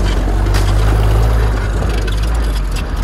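A GAZ-69A off-road vehicle with a newly replaced crankshaft wading through water in second low gear, a steady loud engine rumble under a constant rush of churning water, no pauses.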